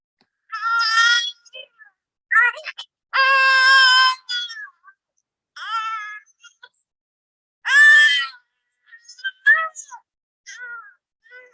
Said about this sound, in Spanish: Nadie lo ve, pero todos sabemos que es un bebé